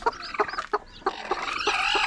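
Close, rhythmic clucking from a mother hen among freshly hatched chicks, with sharp high chick cheeps rising toward the end and no voices.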